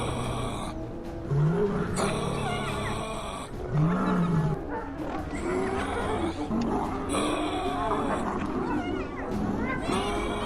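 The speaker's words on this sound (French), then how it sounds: "Le vieux lion rugit, son cri résonnant dans la nuit comme un coup de fouet." An old lion roars at night in the wild, several deep, powerful roars rising and falling over a few seconds, loud and close, with a rumbling background.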